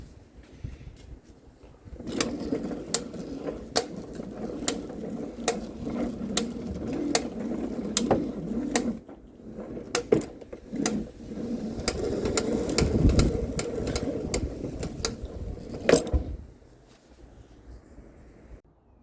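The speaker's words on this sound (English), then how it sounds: "So I pulled up the whole hose to see how long it is." Hose being pulled out of a Vyking Force retractable water hose reel: a long run of sharp, irregularly spaced ratcheting clicks over a rumbling mechanical whir, stopping near the end.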